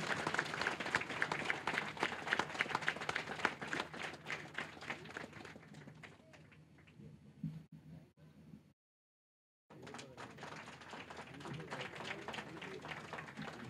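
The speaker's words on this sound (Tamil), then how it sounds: "ஆசிரியர் பெருமகனாருக்கு அரங்கம் நிறைந்த கரகோஷம் செய்யுமாறு அன்போடு கேட்டுக்கொள்கிறோம்" Applause fills a hall at a statue unveiling for Bharathiyar in Sethur: scattered, fairly faint clapping that thins out and drops to a brief silence before resuming, with some taps and thumps mixed in.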